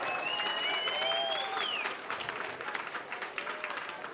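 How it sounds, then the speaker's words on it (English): A crowd at an MMA cage-fighting event applauds both female fighters after three rounds. The clapping is full and loud with high, shrill whistling at first, then settles into a steadier, slightly softer round of claps. "a big round of applause for both these ladies, please, after 3 hard-fought rounds"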